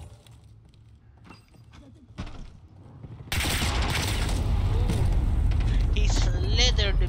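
Rapid submachine gun bursts in Call of Duty multiplayer, loud dense rattling that starts abruptly and continues steadily, with someone talking over it.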